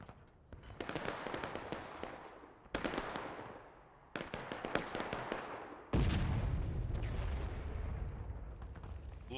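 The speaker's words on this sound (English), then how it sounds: "You need to really pick up the pace on these arty shots" Artillery fire in the War of Rights video game: a series of heavy cannon booms, each followed by a rolling, decaying rumble. The last blast is the loudest and lowest, and no voices are heard.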